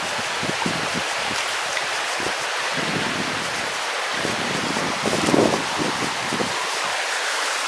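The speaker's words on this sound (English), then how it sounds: "I can hear the water." A woodland stream in Horner Woods near Porlock flows with a continuous hissing wash at moderate level, joined by soft rustles and a brief low bump midway; no talking.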